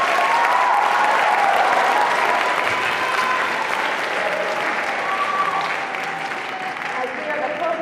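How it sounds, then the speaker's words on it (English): An audience applauds a high school symphonic band at a school bands showcase concert, dense continuous clapping from a large crowd that holds steady and eases slightly toward the end. "Please give them a huge round of applause."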